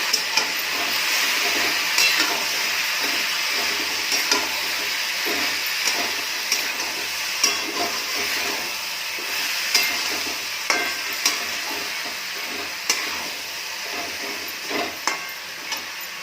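A spoon stirs masala through a frying corn and mixed-vegetable curry, with repeated scraping knocks against the pan over a continuous sizzle and hiss, steady and close.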